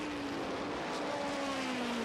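NASCAR Winston Cup stock cars racing in the 1980 American 500, a steady loud engine roar with a sustained gliding engine whine across the whole stretch, no talk.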